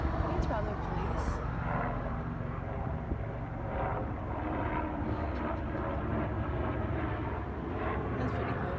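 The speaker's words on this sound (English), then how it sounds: "There's a helicopter. I think it's probably police." Helicopter, likely a police aircraft, flying overhead outdoors during an evening of fireworks, a steady distant rotor and engine rumble running throughout.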